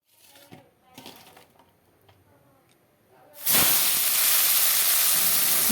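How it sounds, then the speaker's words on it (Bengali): Potatoes frying in hot oil: a few faint clinks and quiet handling give way to a sudden loud, steady sizzle that fills the rest. "এখানে আলুগুলো কিছু লাল হয়ে এসেছে আরও লাল করে ভেজে নেব"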